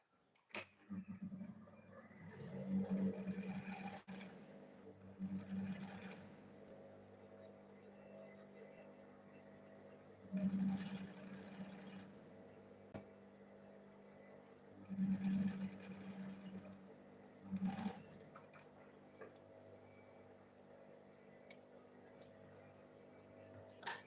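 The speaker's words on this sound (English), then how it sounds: "Then I'll go ahead and sew it." Sewing machine stitching a zip, its steady motor hum rising in several short runs of a few seconds each, with quiet pauses between.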